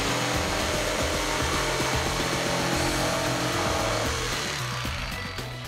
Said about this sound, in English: All we have to do is notch out the corners with the jigsaw so that it fits.